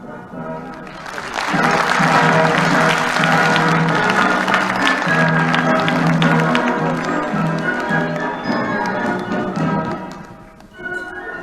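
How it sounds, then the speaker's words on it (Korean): A crowd applauds and cheers to welcome a comedian onto the stage at a comedy lecture show, building quickly to a full, sustained roar that slowly fades near the end, with voices and musical tones underneath. "그의 풍자에 박수를 보낼 준비를 하셔도 좋습니다."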